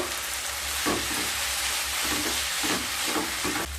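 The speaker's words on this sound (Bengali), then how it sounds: "খুবই সামান্য লবণ দিয়ে দিলাম দিয়ে আবার নেড়ে নেবো" Restaurant-style Hakka noodles stirred in a hot frying pan after a pinch of salt, a loud continuous sizzle with rhythmic scraping tosses and a low rumble beneath.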